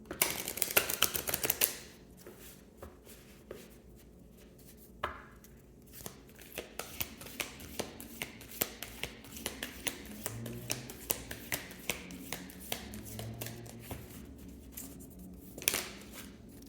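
Tarot cards are shuffled and drawn by hand: a quick burst of crisp riffling at the start, then a long run of light, irregular clicks and taps as cards are handled and laid down nearby.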